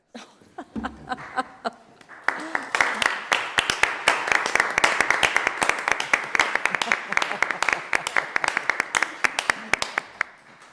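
A standing ovation at a rent stabilization commission meeting for two departing commissioners begins after a brief murmur, then builds into dense, sustained clapping from a room of people with a few louder close claps and some laughter.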